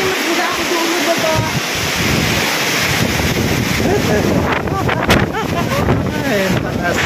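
Strong wind and rain during a storm with flooding, a steady loud broadband roar buffeting the microphone throughout, with brief voices under the noise.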